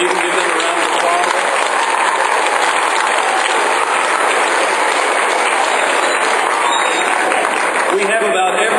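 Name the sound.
audience applauding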